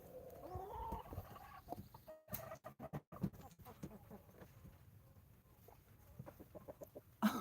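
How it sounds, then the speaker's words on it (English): Chickens cluck and squawk nearby in their coop on a foggy, wet morning, with irregular bursts of agitated calls and some rustling, heard quietly and fairly close. "let's go get the chickens. They're very unhappy."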